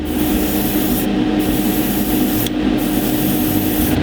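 Steady, continuous hiss of an airbrush spraying paint on a Gundam model kit, with brief dips where the spray pauses and resumes, close and fairly loud with no talking.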